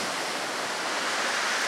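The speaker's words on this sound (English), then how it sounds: "It's pretty windy out here." Steady broadband wind rushing outdoors in a backyard, buffeting the microphone in a constant roar with no talk.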